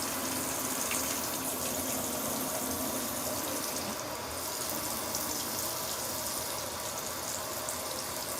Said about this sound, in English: You see the water level raising.